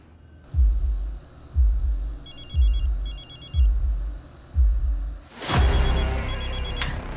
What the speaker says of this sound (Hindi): पापा ध्रुव के नंबर से फोन आ रहा है।